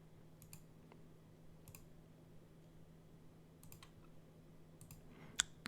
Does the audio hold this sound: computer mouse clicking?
yes